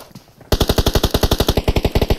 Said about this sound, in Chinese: 听到枪声 了